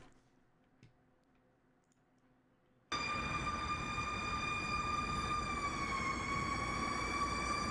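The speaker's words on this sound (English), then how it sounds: "American fire truck siren." After near silence, a loud American fire truck siren suddenly blares, a steady high wailing tone that holds without pause.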